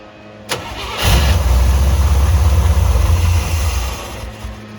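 A Citroën C3 engine cranks and catches on its first start in two years, then runs at a loud, steady, rumbling idle for several seconds before easing slightly at the end.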